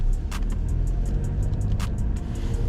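A new car cruising along the road, heard from inside as a steady, loud low rumble of engine and road noise with a few faint ticking clicks on top and no talk.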